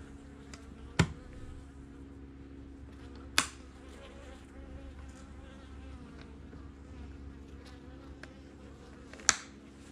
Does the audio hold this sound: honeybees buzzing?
yes